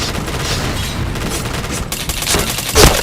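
Rapid video game gunfire from a shooter firefight, a dense crackling volley of shots running steadily throughout, with a louder, sharper burst near the end and no voices over it.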